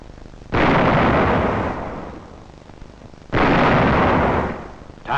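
Two loud, close booms of artillery shells firing in a wartime battle, each blast rolling out into a long decaying rumble, the second arriving about three seconds after the first.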